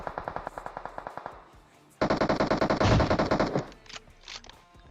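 Video game gunfire rattles in loud automatic bursts: a steady run of rapid shots, a brief lull, then a denser and louder volley that fades into scattered echoing shots.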